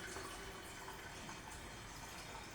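Water is poured into a pot for soaking black beans in a home kitchen. It makes a faint, steady rushing stream with no break throughout.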